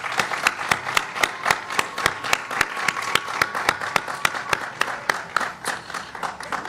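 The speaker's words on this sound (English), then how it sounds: "join me in giving them a well-deserved round of applause" Audience applause at a sickle cell awareness illumination ceremony, steady rhythmic clapping from a modest crowd, fairly close and sustained, with faint voices underneath.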